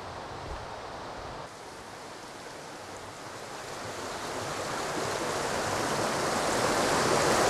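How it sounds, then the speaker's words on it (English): A small brook at Mytholmroyd flows steadily, a continuous broad rush of water with some wind buffeting that grows gradually louder, with no voices. "pay tribute to this little brook that's done so much work over hundreds of years"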